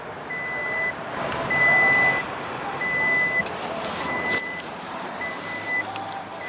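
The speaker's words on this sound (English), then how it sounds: "Excuse me for the beeping in the video." A 2016 Toyota Tacoma 3.5 L V6 sounds a repeating electronic beep inside the cab. Evenly spaced tones come roughly once a second, steady and moderately loud, over a low background hum.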